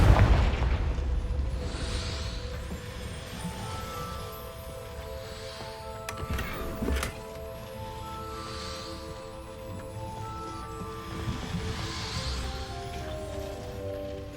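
A Confringo spell explodes in Hogwarts Legacy with a heavy boom right at the start, then fades into a low rumbling tail under soft ambient tones.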